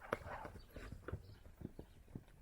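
Hooves of a young colt loping in a round pen give soft, faint clip-clop thuds in an uneven rolling rhythm, heard from a distance with no talking.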